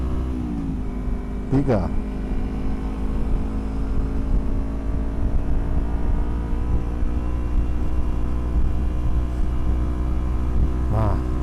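A Kawasaki Versys X 250 with a new aftermarket exhaust and ECU remap holds a steady, loud engine drone, with brief revving blips near the start and end while someone speaks.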